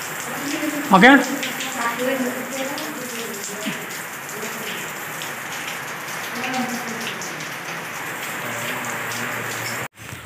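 Steady rain falls at a house construction site where a concrete slab is waiting to be poured, a constant broadband hiss of drops on surfaces throughout, with a brief spoken word near the start.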